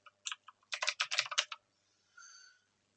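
Quick bursts of keystrokes on a computer keyboard, close and crisp, a short run of rapid taps followed by a pause and a faint tone.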